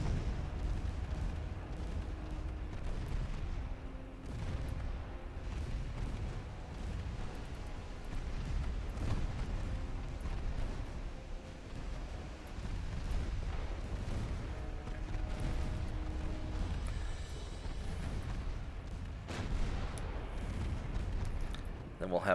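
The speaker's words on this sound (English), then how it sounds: "Kind of sucks when you have like 30 ships shooting at you." Warships in a naval battle game trade gunfire, with steady low booms and rumbling salvos rolling on throughout, a voice talking over the distant cannonade.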